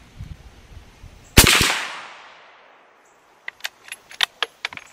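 A single sharp 350 Legend rifle shot with Winchester 180-grain ammunition cracks loudly and decays over about a second outdoors, followed by faint light clinks and taps.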